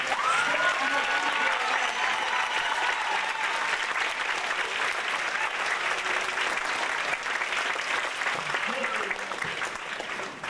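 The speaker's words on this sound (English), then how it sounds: "Everyone give her a round of applause." A full audience round of applause at an event honoring a woman, loud continuous clapping sustained for about ten seconds with voices calling out and a whistle-like tone rising over the crowd noise.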